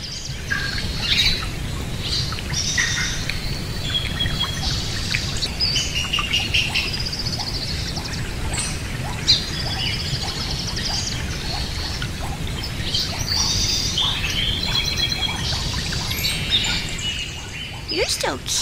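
Steady stream of close parrot chirps, squawks and whistled calls runs continuously over a low rumbling background, with frequent overlapping bursts.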